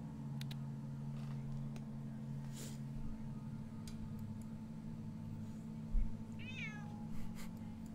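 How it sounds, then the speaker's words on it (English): A pet cat lets out a short, quiet rising meow near the end, heard indoors over a steady low hum with faint ticking clicks scattered through the background. "My cat likes to sit next to me as I record videos."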